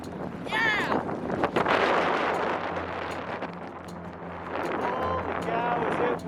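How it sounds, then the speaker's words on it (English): Strong wind buffets a mountain summit in rushing, uneven gusts that batter the microphone, while voices talk and shout excitedly over the roar. "is it windy up here?"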